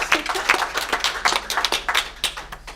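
A scattered round of hand claps from a panel discussion audience, uneven and fairly close, continuing steadily for a few seconds with no voices.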